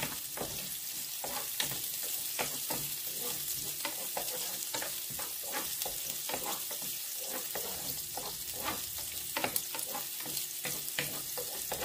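Garlic frying and being stirred in a pan for a home-cooked lunch: a steady sizzle with repeated scraping, clicking stirs throughout, close and even in level, with no talking.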